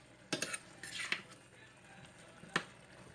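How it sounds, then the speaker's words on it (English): A spoon scrapes and knocks against a pot while vegan chick'n stew with potato and carrot slices is stirred, a few quiet clinks and scrapes spaced over a few seconds. "Stir everything around."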